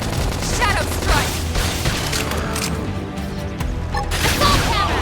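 Gunfire and combat in the video game Xenoblade Chronicles X: dense, continuous bursts of shots and impacts layered with game effects, loud throughout, with voices calling out during the fight.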